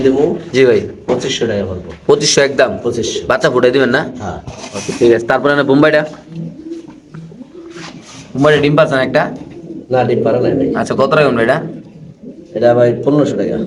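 Pigeons coo at a busy fancy pigeon market where Lahori, local and yellow Mumbai breeds are sold, with soft repeated cooing running beneath near, almost constant bargaining voices.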